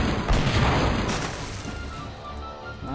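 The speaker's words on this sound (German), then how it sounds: "Schüsse!" Cannon shots in the pirate adventure game Monkey Island 3, a dense cluster of booming, crashing blasts that swell loud early on and then thin out into rumbling aftermath.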